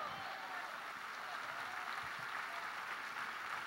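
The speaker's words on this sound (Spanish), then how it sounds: "Dele fuerte ese aplauso al Cristo de la gloria" A church congregation applauds during a sermon, sustained crowd clapping that blends into an even, distant wash, steady throughout with faint voices underneath.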